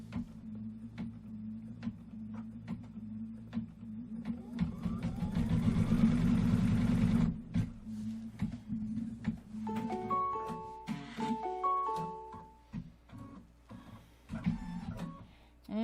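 A Kimberbell embroidery machine stitches out a wreath quilt block with a steady rapid mechanical whir and rhythmic needle ticking, surging louder in the middle, then shifting to a patterned whirring with tonal motor whines near the end.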